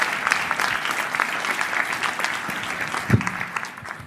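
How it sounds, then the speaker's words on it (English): An audience at a school district budget presentation claps for students, a sustained round of many hands at moderate level that begins to thin toward the end. "So can we give a round of applause to our students here today?"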